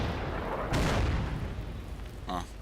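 Artillery fire in the Order of Battle: WW2 strategy game, a heavy booming shot around the middle followed by rumbling, then a short rattling burst near the end over a noisy background, with a voice talking.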